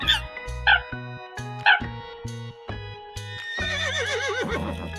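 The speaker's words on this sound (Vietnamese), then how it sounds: "Con ngựa vằn." A zebra calls with a couple of short, yelping barks, then a long, wavering, braying whinny that fills the final seconds, close and clear over a quiet tune.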